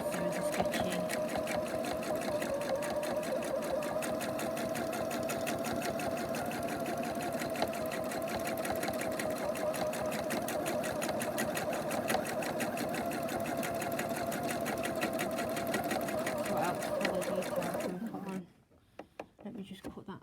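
A sewing machine runs free motion embroidery stitching in a steady, close, continuous whir for about eighteen seconds before it stops and leaves a few faint clicks.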